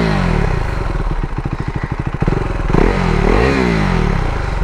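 A KTM RC390 single-cylinder motorcycle engine, loud and close, starting with rapid chugging pulses and then revving up and down in quick rises.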